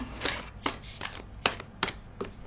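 Tarot cards shuffled close up in a quiet room, a run of soft, papery riffling bursts at an irregular beat of roughly two per second, each with a crisp slap, no talking.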